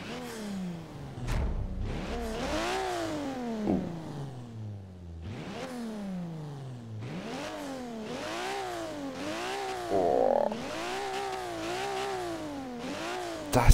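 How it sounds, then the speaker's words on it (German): Car engine in the racing game Forza Horizon 3 starting up and revving repeatedly, pitch climbing and falling in several strong sweeps, loud and close with no voices over it. "Dann werden wir jetzt mal den Motor starten."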